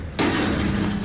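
Video game airstrike explosion landing as a sudden broadband blast that hits at once and then roars on as a sustained rumbling wash, close and loud, no voices.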